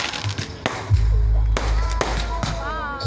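Firecracker bangs burst at a village fireworks festival in Kudus, sharp loud cracks spaced irregularly with a whistling rocket near the end, mixed with crowd noise and a voice talking nearby.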